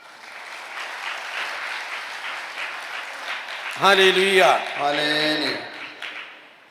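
An audience at a Catholic priest's sermon claps loudly and steadily for several seconds, then a voice speaks over the fading applause.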